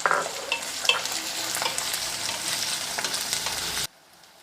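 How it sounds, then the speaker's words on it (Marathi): Onion sautés in oil with cumin, a fairly quiet, steady hissing sizzle with light stirring scrapes, close by, ending abruptly in near silence. "आता कांदा घालायचा आहे आणि कांदा आपल्याला 2 ते 3 मिनटं चांगला परतून घ्यायचा आहे"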